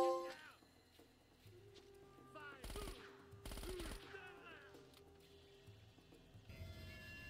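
SMG fire in Uncharted, two short loud bursts of rapid shots near the middle, set against a game soundscape with music and a voice talking over it.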